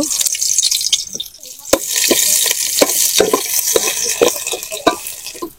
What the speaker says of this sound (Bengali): তারপর আমি পেঁয়াজ কুচি দিয়ে নিব।